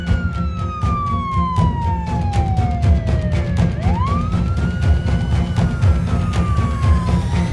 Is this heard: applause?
no